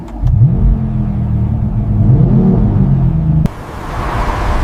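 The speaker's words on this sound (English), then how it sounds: "All-wheel X-drive system tested on low-friction dyno." A BMW X3 with all-wheel drive running on a low-friction dyno in a factory, its engine giving a loud steady rumble with slight revving, then dropping to a lower background hum near the end.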